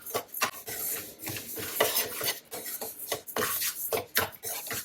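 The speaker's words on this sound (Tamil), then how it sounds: "நம்ம நின்று கிளறிக்கிட்டே இருக்கும்போது நல்லாயிருக்கும்" Rice flour kali stirred in a pan, a continuous rhythmic scraping and rasping of a spoon against the pan, loud and close, with no talking.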